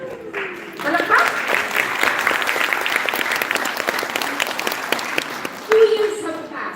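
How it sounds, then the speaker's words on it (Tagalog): Audience at a Migrant Workers Day celebration in London breaks into sustained applause, loud and steady for several seconds, with a voice speaking briefly before and after. "Palakpak!"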